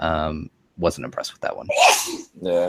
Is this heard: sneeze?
yes